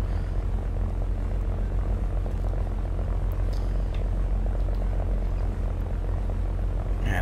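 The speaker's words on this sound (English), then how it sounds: "I see an airplane diving over there." Airplane engine drone during a dive in War Thunder simulator battles, a steady, loud, unbroken propeller roar that holds at one level throughout, with faint higher clicks and whines on top.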